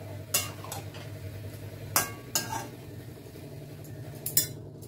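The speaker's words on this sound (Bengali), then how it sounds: "একটু নাড়াচাড়া করে নিচ্ছি" Stirring curry in a pan with a metal utensil, several sharp clinks and scrapes against the pan at uneven intervals over a low steady background.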